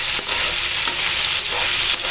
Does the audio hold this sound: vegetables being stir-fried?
yes